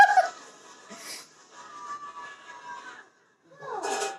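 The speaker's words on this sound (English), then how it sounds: "This poor dog, though." A dog whimpers in a Naruto anime episode, with several short high-pitched whines and yelps in bursts separated by brief pauses, faint to moderate against a quiet background.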